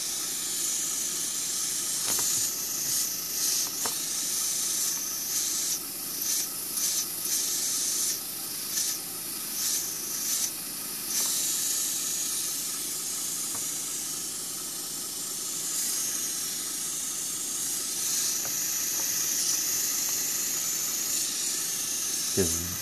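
Cheap airbrush spraying paint onto a model railroad flatcar, a steady loud airy hiss running almost without pause, with short breaks and bursts as the trigger is worked.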